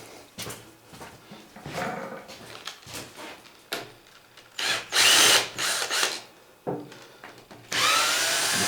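Power tool, likely an impact driver or drill, removes bolts during Tremec T5 transmission disassembly: several short loud whirring bursts separated by clanks and handling of metal parts, close up.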